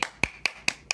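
Five sharp hand claps land in an even rhythm about a fifth of a second apart, close and crisp, with no talking over them.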